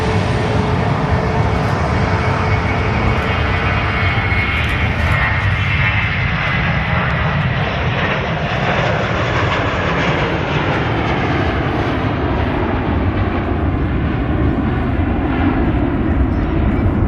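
A plane's engines roar steadily and loudly at Manchester Airport, a broad continuous drone that shifts slightly in pitch as the aircraft passes, with no talk.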